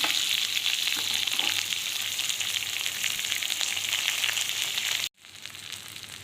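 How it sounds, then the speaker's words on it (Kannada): Onion, chana dal and mustard seeds frying in oil in a pan, a loud, dense, close sizzle with crackling pops that holds steady, cuts out abruptly, then resumes a bit quieter. "ಇದನ್ನು ಫ್ರೈ ಮಾಡ್ಕೊಳ್ತಿದ್ದೆ. ಕಡಲೆಬೇಳೆ, ಸಾಸಿವೆ ಹಾಕಿದ್ದೀನಿ, ಈರುಳ್ಳಿ ಹಾಕಿದ್ದೀನಿ"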